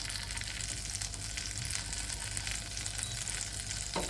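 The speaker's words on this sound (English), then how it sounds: "The butter is already foaming up, which is great, because that just makes it taste better as well." Butter foams and sizzles steadily in a hot pan, a dense continuous crackling hiss that stays loud and even throughout, close up with no talking.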